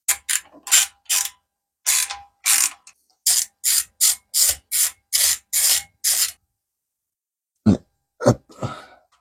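A ratchet wrench tightening the carburetor screws on a lawn tractor clicks in steady, close bursts of sharp ratcheting strokes, pausing briefly before a few final clicks, with no talking.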